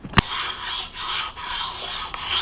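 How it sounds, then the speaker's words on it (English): A sharpening stone is rubbed back and forth over a metal part in steady rasping strokes, close and fairly loud, with a sharp click near the start. "So now the idea is to work that stone until all of this turns bright."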